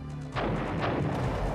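Gunfire in the video game Cossacks, where booming shots crack over a dense, continuous battle din, loud and close, with no talking.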